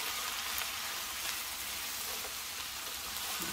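Tomato cooking down in a frying pan, a soft, continuous sizzle with fine crackling that holds steady from start to finish, heard alone without any voices.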